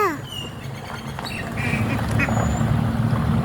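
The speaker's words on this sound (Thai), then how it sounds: "เลี้ยงเป็ดชายคลองค่ะทุกคน" Several ducks quack in a noisy cluster nearby on a canal bank, with a few sharp bird chirps over the top early on.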